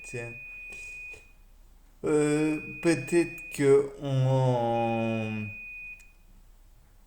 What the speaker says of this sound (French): désolé pour le bip incessant